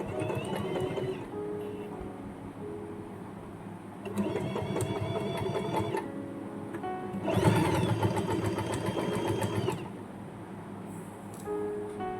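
A sewing machine stitches a zip onto a cloth pencil pouch, running in several bursts of rapid, steady mechanical whirring separated by brief pauses, close and clear without talk.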